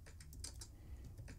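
Someone types on a computer keyboard, producing a quick, close run of soft key clicks with no talking.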